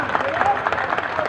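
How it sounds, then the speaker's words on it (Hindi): An audience applauds to welcome a minister at the centenary ceremony of a school for the blind, with clear, fairly rhythmic claps under a speaker's ongoing voice. "जोरदार तालियों से उनका हार्दिक अभिनंदन चले"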